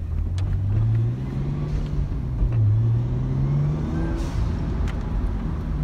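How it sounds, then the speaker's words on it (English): A Nissan Skyline R34 GT-T driving, its engine humming steadily from inside the cabin, with a couple of rises and falls in revs over continuous road noise. "So that's pretty much the drive of the R34 GTT."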